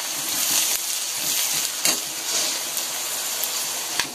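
Bitter gourd pieces sizzle in a pan over already fried onions, a steady close hiss of frying oil with a few sharper crackles and pops.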